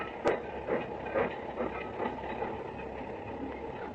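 A train rolls along the rails with a steady rumbling clatter and periodic rhythmic knocks, fairly close and with no voices.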